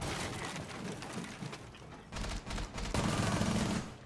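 Rainbow Six Siege gunfire: continuous rapid automatic fire that sounds somewhat distant and muffled, with bursts growing denser in the second half.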